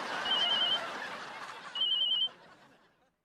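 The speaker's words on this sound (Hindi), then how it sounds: "अम्मा जी का फोन है, हम बात कर रहे हैं।" Telephone ringing in a home with two warbling electronic ring bursts, fairly loud over a busy background, with a third ring starting just as the clip ends.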